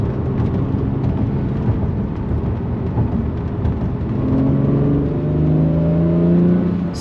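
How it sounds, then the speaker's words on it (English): A Lamborghini Murcielago rolls along a road, its engine a steady loud drone that swells and rises in pitch toward the end as it picks up speed, with no voices. "this car rolling on the road, it's almost like, it's just as exciting to watch it rolling on the road"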